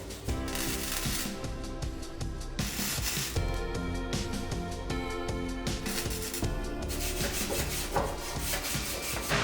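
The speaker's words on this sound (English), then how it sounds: "Now we'll clean up the area here more with the wire wheel." A wire wheel scrubs the rusty floor metal of a 1985 Toyota pickup during floor repair, giving a loud, continuous harsh abrasive whir with rough fluctuations, close and alone.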